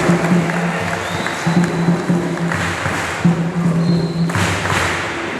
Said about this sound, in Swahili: Tumpongeze tena kwa makofi